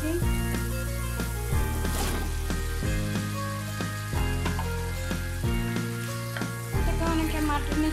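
Potatoes go into hot spiced masala in a pan, with a loud, continuous sizzle and frying hiss that carries steadily throughout alongside tonal background music.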